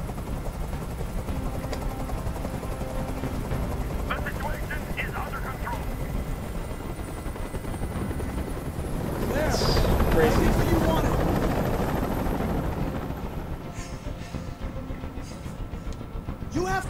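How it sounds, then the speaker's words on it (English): A loud, continuous rotor thrum of a hovering helicopter in the video game Detroit: Become Human fills a hostage scene, swelling midway, with voices speaking over it. "Tell that helicopter to get out of here."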